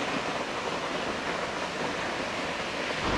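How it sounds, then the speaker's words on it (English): A Yosemite waterfall pounding onto rocks beside the Mist Trail near Half Dome, a steady, dense roar like a passing jet, with no voices. "The sound of the water hitting the rocks sounds like a jet flying, if that makes any sense. It's like a cracking sound almost."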